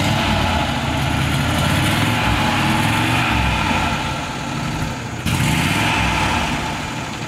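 1950 Ford Custom Coupe barn-find engine running with a steady low idle rumble and pulsing beat, loud and close, with a brief dip partway through; the engine is said to need valve work.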